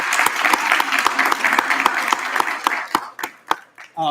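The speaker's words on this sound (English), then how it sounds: "I just want to give these guys a round of applause one more time" A school PTA meeting audience claps loudly in sustained applause that thins out into scattered claps toward the end.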